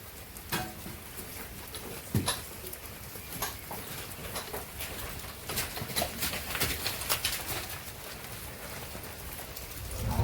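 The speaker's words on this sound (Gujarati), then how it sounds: "ધીમા ધીમા વાયરા વાય છે ને વરસાદે ધીમો ધીમો પડે છે" Gentle rain patters steadily with scattered drips and taps on surfaces, a faint bird calling now and then in the distance.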